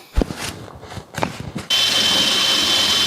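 After a few knocks and handling sounds, a power drill starts and bores steadily into a wooden chair seat, a constant whirring close by for the last second and a half.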